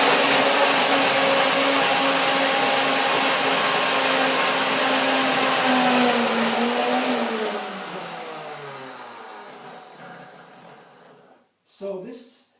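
A blender whirs loudly, processing persimmons and cashews, its motor pitch sliding downward as it slows and winds to a stop, followed by a brief clatter at the end.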